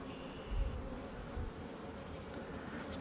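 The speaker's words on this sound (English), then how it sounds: "There's going to be a lot of bees coming in here, coming out of here." Honey bees buzz in a dense, steady drone at an open hive during a brood inspection, the hum continuous and close with a brief louder bump near the end.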